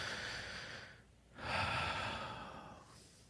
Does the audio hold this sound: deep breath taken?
yes